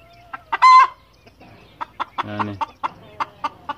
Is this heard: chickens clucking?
yes